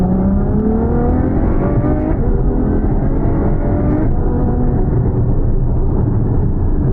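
A Ferrari F12 Berlinetta's engine and exhaust drop through downshifts, the pitch falling and jumping in steps with a loud, close, continuous roar and no voices.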